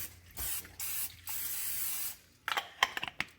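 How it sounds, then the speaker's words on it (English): Butter flavored cooking spray hisses into a baking dish in a home kitchen in several short bursts, followed by light clicks and taps of the can. "I'm going to take my baking dish and I'm going to spray it with this butter flavored spray."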